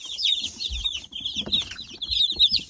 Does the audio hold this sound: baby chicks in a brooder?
yes